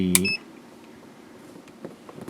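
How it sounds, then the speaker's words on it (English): A single short electronic beep from a multimeter on its continuity setting at the start, then quiet low background noise. "You'll know that by the beeping."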